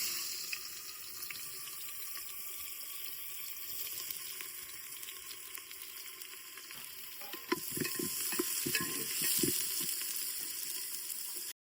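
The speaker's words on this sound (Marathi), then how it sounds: "आता ह्याच्यात कांदो टाकतोय" Onions dropped into hot oil in a pot over a traditional wood-fired chulha for chicken dum biryani, a steady hissing sizzle that grows louder with a burst of stirring clatter near the end.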